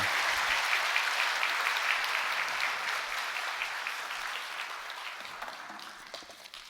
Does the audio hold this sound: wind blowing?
no